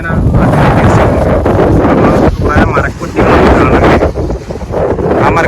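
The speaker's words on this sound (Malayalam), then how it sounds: "തണുത്ത കാറ്റടിക്കുകയാണ്" Strong cold wind at a forest edge buffets the microphone in heavy gusts, roaring throughout with brief dips, while a voice speaks underneath.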